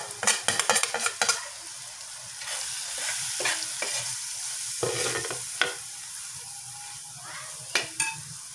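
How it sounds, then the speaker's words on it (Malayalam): Spice powders such as chili, coriander, turmeric and meat masala frying with tomatoes in a pan for a Kerala beef fry, with a steady sizzle broken by sharp scraping spoon stirs, close and moderately soft. "പൊടികളൊക്കെ നല്ലോണം മൂത്ത് വന്നിട്ടുണ്ട്, നല്ല മണം വരുന്നുണ്ട്."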